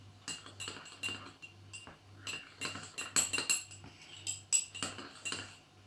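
Orange colorant, mixed from mostly yellow, is stirred into slime with a utensil that clinks against its container in quick, irregular taps and scrapes, close up and alone over a faint steady hum.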